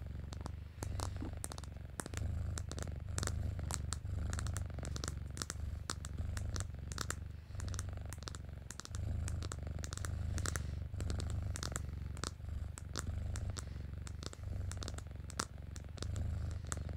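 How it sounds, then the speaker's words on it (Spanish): A small kitten purrs close and soft in an ASMR roleplay setting, a continuous, rhythmic low rumble pulsing steadily throughout, with faint clicks and taps scattered over it. "Como ronroneas."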